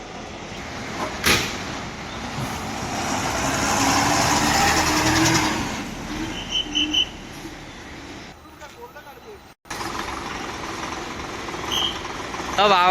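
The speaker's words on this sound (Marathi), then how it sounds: "बघू शकता तुम्ही रत्नागिरी बस स्टँड" Red MSRTC state-transport buses idle at the Ratnagiri bus stand, giving a continuous engine drone with a clunk and some clatter. Someone talks over the noise.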